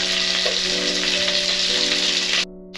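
Butter and oil heating in a pan while cooking jeera rice, a loud, even sizzle close by that cuts off abruptly just before the end.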